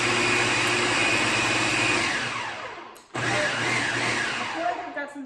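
A blender running loud and steady while chopping greens for juice, motor whine constant for about three seconds, a brief stop, then whirring again with shifting texture as the leaves break down.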